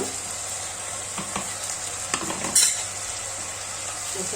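Cumin seeds go into a hot khichdi mixture and are stirred in with a spoon, giving a steady close sizzle broken by a few light scraping taps against the pan.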